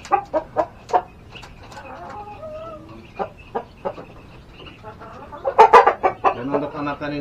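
Young chickens about three months old cluck in a backyard home poultry coop, giving short, close, repeated calls with pauses between them and a busier burst of clucking near the end.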